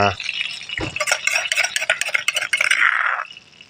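Food is stir-fried in boiling oil in a pan, with busy scraping and clattering of a utensil against metal over a crackling sizzle, loud and close.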